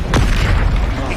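A Confringo spell explodes in the wizarding game Hogwarts Legacy with a loud, booming burst that fills the short moment, close and heavy with a rumbling low end.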